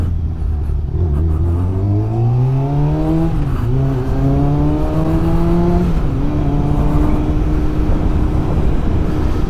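Carbureted 1999 Kawasaki ZX6R 600 sport motorcycle engine revving, loud and close, pitch climbing through several gear pulls with a brief dip between rises, a smooth high-revving inline-four wail.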